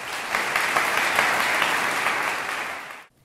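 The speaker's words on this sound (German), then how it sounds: "Ganz herzlichen Applaus an Sie." A lecture-hall audience at a university degree-program anniversary breaks into warm, sustained applause, dense and fairly loud, holding steady before cutting off abruptly near the end.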